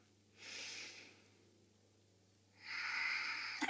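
Two slow, audible breaths during a yoga flow, a soft breath at first and then a longer, stronger one, near and alone in a quiet room, with a brief click at the end.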